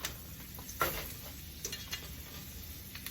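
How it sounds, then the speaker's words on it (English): Neck bones frying in a pot for curry, a soft continuous sizzle with a few clinks and stirring scrapes, one sharper knock early on, fairly quiet and with no voices. "I'm going to take my neck bones and I'm going to put them on in here. And I'm going to fry them up."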